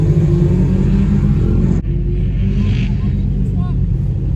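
A Jeep Rubicon 392 with a 6.4 liter Hemi engine and 38-inch tires at a drag race, a deep loud engine rumble that cuts abruptly partway through and then continues lower, with people talking over it.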